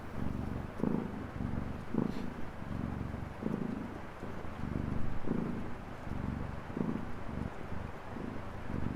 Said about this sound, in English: it's a good purr noise